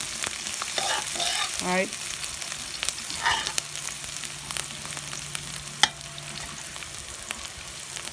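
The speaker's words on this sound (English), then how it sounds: "while that's popping there, let me start to give it a stir" Pigtail and okra rice sizzles and pops steadily in a pot as a spoon stirs it with a few scraping strokes and sharp clinks, close and mostly alone.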